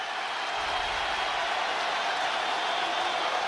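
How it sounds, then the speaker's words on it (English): A basketball game crowd roars in a loud, continuous wash of cheering and applause, sustained without a break for a few seconds. "Listen to this crowd."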